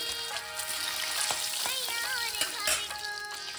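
Fish pieces fry in hot oil for a Bengali eggplant and hilsa curry, producing a steady close sizzle punctuated by brief clinks and stirring sounds.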